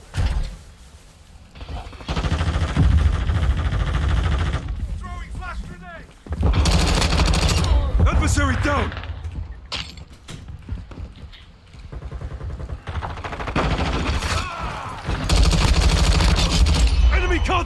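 556 Icarus light machine gun from Call of Duty Modern Warfare II firing in long sustained bursts, loud and close, broken by short pauses, with a voice and game sounds in between.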